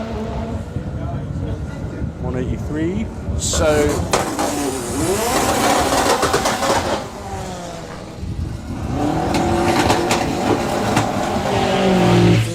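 A naturally aspirated street car launches hard down a drag strip, its engine roaring and revving through rising gear pulls, loud and close, with a commentator talking over it.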